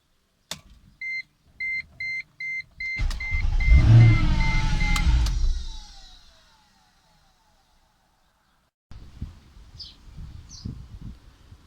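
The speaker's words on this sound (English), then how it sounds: "We just want to turn it over very quickly and then check the level again." A Mercedes C55 with the M113 engine beeps a few times before the starter cranks and the engine fires briefly, roaring close for a couple of seconds and then shutting off; faint handling noises follow after a pause.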